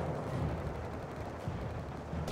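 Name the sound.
gunfire shot in video game Company of Heroes 3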